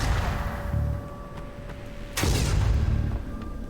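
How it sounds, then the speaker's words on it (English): A delayed-explosion weapon goes off in a video game: a single sudden boom bursts out of a steady, humming background and leaves a rumbling tail. "Oh, what's our weapon? Oh, that actually, like, has a delayed explosion,"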